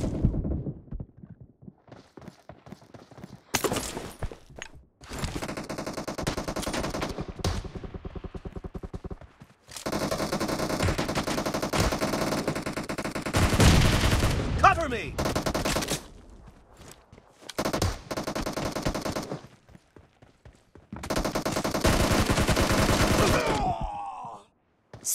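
Gunfire in a team deathmatch video game comes as long, dense automatic bursts separated by short pauses, loud and close and mixed with other game effects, and no one talks.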